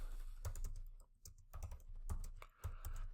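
Someone types on a computer keyboard, with soft, close keystrokes falling in irregular clusters and a brief pause between them, faint overall.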